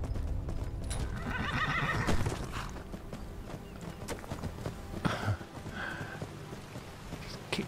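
Horse in the Skyrim video game, a wild horse ridden near a cliff edge and road, whinnying loudly over steady clip-clop of hooves, with rain-like noise in the background and a second neigh later.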